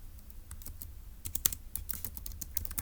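Typing on a computer keyboard, a quick irregular run of light key clicks, faint and close, growing slightly busier toward the end with no voices.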